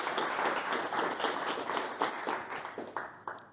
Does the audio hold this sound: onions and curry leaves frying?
no